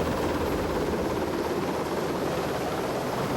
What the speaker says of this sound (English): we'd be using the helicopters in their primary role